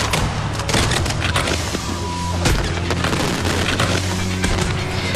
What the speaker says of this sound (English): The fireworks started too soon.